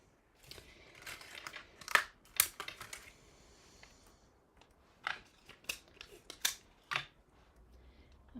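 Scissors snipping out small paper stamped pieces for a card project, a series of crisp cutting snips in uneven bursts with pauses between, close and fairly quiet, with no talking.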